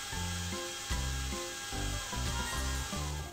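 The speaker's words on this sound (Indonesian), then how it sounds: "Dibor ya guys." Cartoonish dental drill in a dentist video game, a steady tonal whir that rises and stops in repeated short bursts over game music, with no talking.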